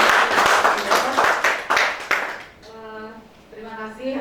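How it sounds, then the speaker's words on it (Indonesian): Audience applause at a school dissemination event, a dense burst of clapping for about two and a half seconds that then fades out as a voice begins talking. "Mari kita beri aplaus kepada"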